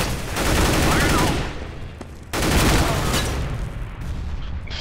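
In a Counter-Strike match on dust2, a loud grenade blast is tangled with rapid gunfire in two heavy bursts split by a brief lull, with voices faintly mixed in.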